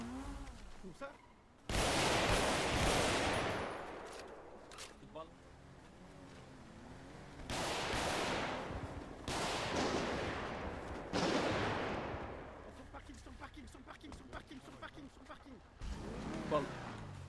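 Gunfire in a shooting video game comes in loud bursts and separate volleys, some heavy and sustained, while players talk over the action.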